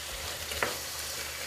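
Cumin powder stirred into a chickpea curry in a sizzling pan gives a soft, steady frying hiss, with a single scrape of the spoon midway and another sharp clack at the very end.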